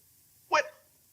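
A pug dog gives a single short, sharp bark, close and clear against a quiet background.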